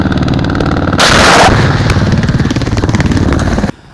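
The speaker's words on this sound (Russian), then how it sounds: "у военного вертолета произошло замыкание цепи стрельбы, то есть он выстрелил не по цели" Military helicopter firing rockets during the Zapad-2017 exercises, with a loud, sharp blast of launch noise over a steady, pulsing rotor and engine drone that cuts off abruptly near the end.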